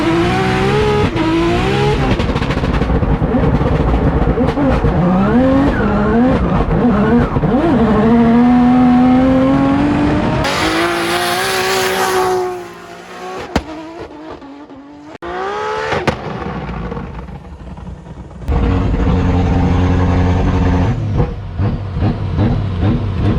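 A tuned car revs loudly and continuously, its engine note rising and falling with gear changes and tire squeal, then a brief quieter stretch before the engine roars again.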